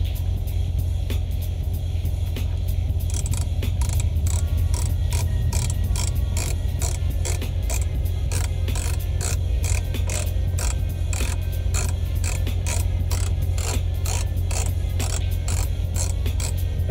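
A ratcheting car phone mount clamp tightened onto an air vent: a steady run of fast, evenly spaced mechanical clicks, close and loud over a constant low engine rumble, with no talking.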